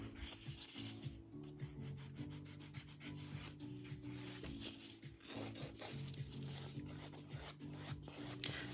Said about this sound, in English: And I'm going to take my 180 grit file